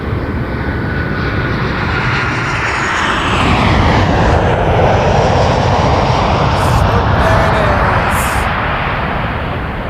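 A jet airliner in Swoop livery passes loud and close at Toronto Pearson Airport, its engine roar sweeping broadly and peaking midway before trailing off, with no speech.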